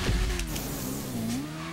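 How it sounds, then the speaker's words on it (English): Motorbike engine revving in GTA 5 Online, the new Vortex bike idling with the throttle rising and falling, a steady close droning tone that dips and swells under faint game ambience, with no voices. "Casually revving it up. Not even touching the handlebars and it's revving up."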